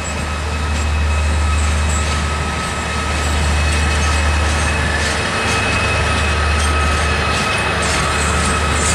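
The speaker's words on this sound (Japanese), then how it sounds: "京葉臨海鉄道からの貨物列車はディーゼル機関車で JR 蘇我駅まで牽引され" A Keiyo Rinkai Railway diesel locomotive hauls a freight train near JR Soga Station, a loud, continuous low engine drone with rolling wagon rumble sustained throughout.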